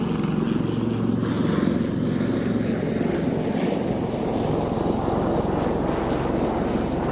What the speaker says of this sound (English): it is the two Lynx helicopters